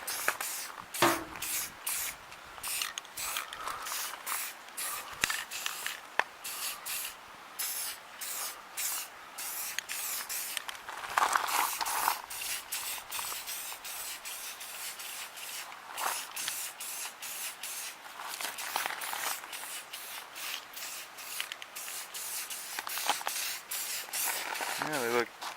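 Aerosol spray can hissing in repeated bursts as rust-prevention coating is sprayed under a car, fairly close, with short pauses between sprays and a few brief spoken moments.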